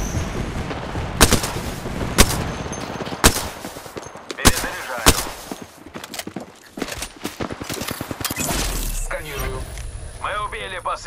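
Sporadic gunshots and short bursts of fire in the Apex Legends video game, sharp cracks scattered across the clip among game effects, with a voice speaking throughout.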